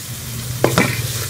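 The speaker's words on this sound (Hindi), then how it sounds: "मसालों को भी चिकन के साथ अच्छी तरह से भून लेंगे" Chicken browning in a pan with spices and green chillies, a steady close sizzle broken by two brief stirring scrapes in quick succession.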